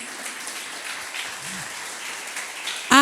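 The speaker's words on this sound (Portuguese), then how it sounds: "Aplauda ao Senhor em nome de Jesus." Church congregation applauding during a Wednesday worship service: a faint, steady wash of clapping throughout, closing on a louder sharp burst.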